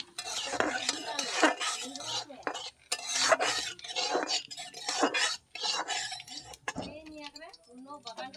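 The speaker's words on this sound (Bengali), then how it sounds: "এবার দিয়ে দেবো জিরে অল্প নেড়ে নেব" Cumin seeds stirred briefly in hot oil in a pan while cooking a Bengali egg, potato and pointed gourd curry, with soft scraping and clinking of a utensil against the pan under continuous talking.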